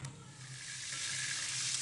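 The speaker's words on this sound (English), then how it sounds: "Fries pork in the oil," Pork sizzles and fries in hot oil in a home kitchen wok in China, a steady, fairly loud crackling hiss that holds evenly and builds slightly over the whole stretch.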